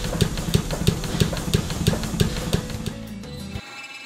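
A bicycle frame fatigue testing machine in a Vancouver bike factory runs with a steady, rapid mechanical thumping and hum, even in rhythm and loud, before cutting out abruptly near the end.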